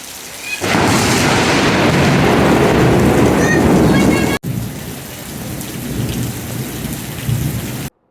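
Heavy rain pours down steadily in Dinajpur, Bangladesh, with deep rumbles of thunder, loud and close, briefly cutting out partway through before the downpour continues.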